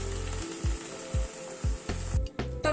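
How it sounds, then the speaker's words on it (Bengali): Hot water poured into a frying chickpea curry sets off a sizzle, with several short bursts of hissing and bubbling spattering in quick succession, close and fairly loud. "এবার গরম জল অ্যাড করে দিচ্ছি।"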